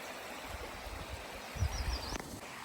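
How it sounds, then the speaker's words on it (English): Small cascades along a trailside creek in the Los Padres backcountry rush and splash in a steady broadband wash, close and continuous, with a faint bird call near the end. "we've got these nice small cascades right along this creek"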